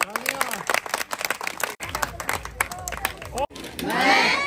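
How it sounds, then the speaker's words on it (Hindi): A group of children claps at a forest awareness program in Sidhi district, with bursts of clapping mixed into loud voices and crowd noise, and a swell of cheering near the end. "ताली बजाओ आप लोग।"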